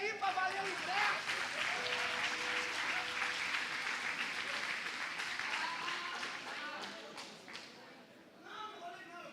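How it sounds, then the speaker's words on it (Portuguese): A live audience at a ticketed show breaks into sustained clapping that stays dense and loud for several seconds before thinning out and fading near the end. "Aplaude aí para valer o ingresso."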